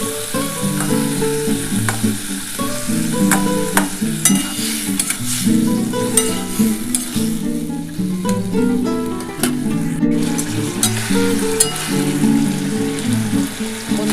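Drumstick and potato curry, vegetarian and cooked without whole spices, stir-fried in a pan: a steady loud sizzle runs throughout, with frequent close spatula scrapes and clicks against the pan.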